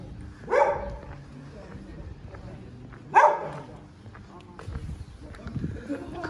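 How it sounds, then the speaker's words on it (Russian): An aggressive off-leash dog on a seaside promenade gives two sharp barks a few seconds apart, moderately close, over outdoor ambience and people talking. "Какая-то агрессивная собака"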